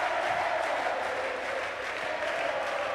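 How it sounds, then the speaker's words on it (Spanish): Fans at a basketball playoff game between Brown de San Vicente and Platense applaud steadily, a dense, even patter of clapping from a large crowd lasting the whole moment. "La gente de la torcida que aplaude a Brito"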